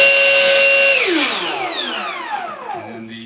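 Durafly DH100 Vampire MK6 RC jet's electric ducted fan whining at high speed, then spooling down in a long falling whine over a few seconds, close and loud with no talking.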